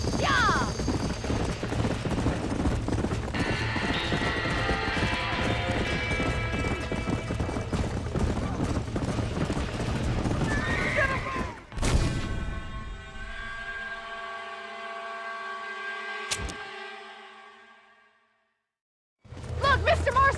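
Horses in a burning barn in Red Dead Redemption, hooves clattering and whinnies sounding under game music and shouting voices, then a sustained tonal swell that fades to silence before noise returns.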